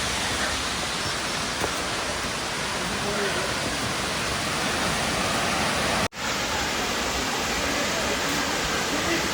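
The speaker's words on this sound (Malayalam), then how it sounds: "ഇതാ നമ്മുടെ വെള്ളച്ചാട്ടത്തിൻ്റെ സ്റ്റാർട്ടിങ് പോയിൻ്റ്" Marmala waterfall in Kerala, rushing water roaring loud and steady at close range as a dense, unbroken wash, with one brief dropout partway through.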